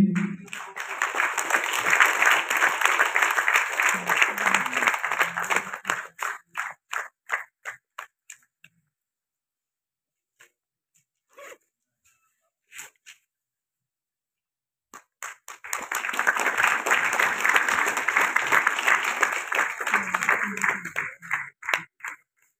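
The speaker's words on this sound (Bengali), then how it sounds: "একটু প্রত্যেকে করতালি দিন" Seminar audience claps in a dense burst of applause for several seconds, tapering to scattered claps and near silence, then swells into a second full round of applause.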